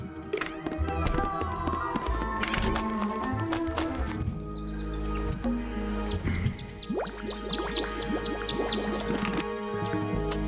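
Small birds chirp at a bird bath in the Tangle Tower video game, with a run of bright repeated tweets in the second half over busy game background sound and some taps.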